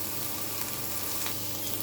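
Kudri (ivy gourd) sizzles in a wok, a brief even hiss of frying oil heard close, with soft stirring movement underneath and no voices.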